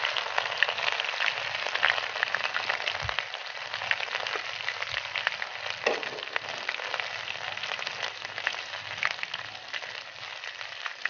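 Garlic-ginger paste, about a spoonful, sizzles and crackles steadily in hot oil in a home kitchen pan while making chicken kofta, a dense continuous frying hiss with no talk.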